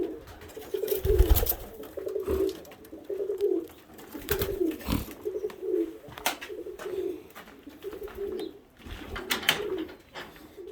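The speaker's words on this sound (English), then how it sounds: "Some rollers." Roller pigeons cooing in a loft, repeated soft throaty coos in a steady rhythm, close and clear, with occasional wing flutters and shuffling between calls.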